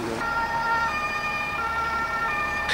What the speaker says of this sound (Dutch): de chaos op de IJsselkade compleet als er ook nog een ambulance langs wil